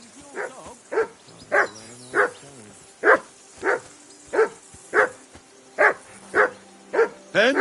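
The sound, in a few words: dog barking in Kingdom Come: Deliverance 2 video game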